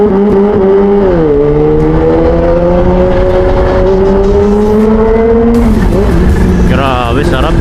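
A Kawasaki ZH2 launches hard under launch control, its engine note loud and close, rising in pitch through a steady run of revs before shifting near the end.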